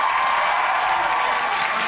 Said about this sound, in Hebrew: מגיע להם כפיים